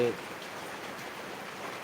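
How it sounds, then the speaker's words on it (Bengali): Steady patter of heavy rain drumming on a tin roof in Niamatpur, Naogaon, a soft continuous hiss with no talk. "বৃষ্টির ফোঁটা কীভাবে পড়ছে টিনের উপর এই শব্দটাও শোনা যাচ্ছে"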